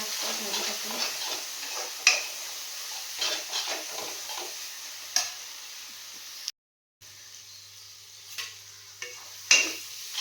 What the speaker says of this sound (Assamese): এতিয়া আকৌ ভাজি থাকোঁ।